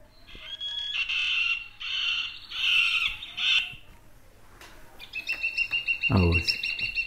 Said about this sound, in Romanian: Ciocănitoare.